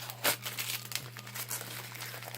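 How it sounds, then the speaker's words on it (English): Paper label being peeled and crinkled off a glass St. Jude candle, a close, soft crinkling and tearing with one sharper rip near the start, over a steady low hum. "get the label going with maybe some scissors or a knife, and just twirl that off."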